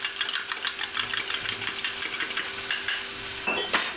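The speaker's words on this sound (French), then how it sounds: "Ensuite, avec une fourchette," A fork stirs crumbled chicken bouillon in a glass, making quick, rhythmic clinks and scrapes against the glass, close and distinct, ending in a couple of brighter rattling strikes.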